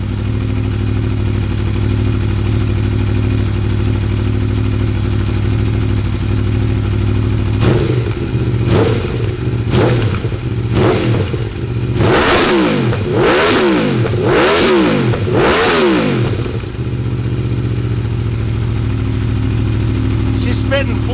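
A 2018 Aprilia Tuono Factory motorcycle with stock exhaust in track mode, idling loud and close, then a string of sharp throttle blips rising into longer revs before settling back to idle.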